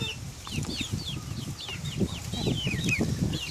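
Chickens and roosters in a backyard flock give rapid overlapping clucks and squawky chirps, moderately close, with wing flutters and scuffling underneath.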